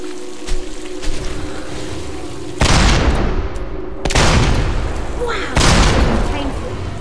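Video game gunfire in Fable II: a few scattered shots, then three heavy booming volleys that each ring out and decay, with a voice speaking between them.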